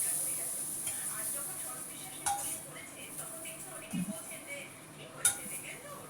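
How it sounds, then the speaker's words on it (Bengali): Fried green banana and potato get scooped from a large wok into a bowl, with a few light metallic clinks and scrapes of the utensil against the pan over quiet background. "আমি তুলে নিচ্ছি বাটিতে।"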